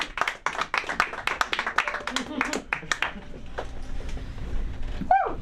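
Comedy club audience at an LA stand-up night claps in a burst of sharp, sparse hand claps that thin out over a few seconds, with a voice briefly audible at the end.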